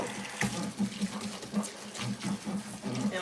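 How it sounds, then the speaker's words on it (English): Water poured into a plant container to soak the roots makes a steady splashing trickle with small recurring gurgles, close by and fairly quiet. "So now I've learned to put water in it"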